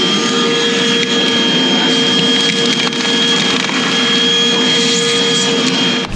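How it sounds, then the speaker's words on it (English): A suction vacuum pulls gravel off river bedrock during gold prospecting, a loud, continuous roaring whine with steady tones and rattling grit, running alone without pause. "I better vacuum up down here before I drop those rocks where I wanted to vacuum."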